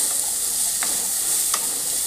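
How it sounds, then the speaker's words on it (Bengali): Taro and spinach, seasoned with turmeric and a little chili powder in very little oil, sizzle steadily in a frying pan while two brief scraping stirs cut through the constant hiss. "এবার আমি নাড়াচাড়া করে নেব।"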